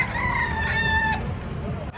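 A gamecock at a rooster expo in Tabunok, Talisay, Cebu, crows once, loud and near, in a long strained call that breaks off, with crowd murmur beneath.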